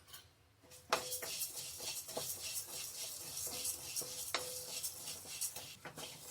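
Chana dal and urad dal dry roasting in a pan, with a spoon stirring and scraping the lentils in repeated close strokes over a faint crackle, broken by a few sharp metallic clinks.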